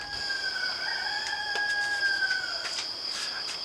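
A rooster crows one long, drawn-out call nearby, with faint insect chirping and a few clicks in the background.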